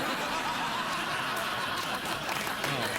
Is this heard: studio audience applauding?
yes